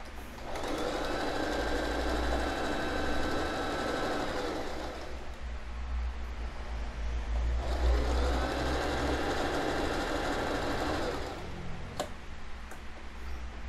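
A sewing machine stitching a fabric face mask, two long runs of fast steady whirring close by separated by a short pause, ending with a click, no talk.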